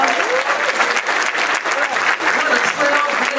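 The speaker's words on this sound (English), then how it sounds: "Why don't you give her a round of applause?" Applause from an event audience celebrating Dr. Dorothy Height, a dense, steady roar of many hands clapping that carries on for a few seconds.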